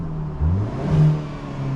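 A 2023 Hyundai Kona N exhaust in normal mode gives a short, moderately loud rev, a low engine note that rises and falls twice within under two seconds, with no talk.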